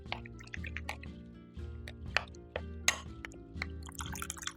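Mashed ragi balls being stirred with plain yogurt in a glass bowl: wet squishing and dripping sounds with scattered clinks of the spoon against glass, close and fairly quiet.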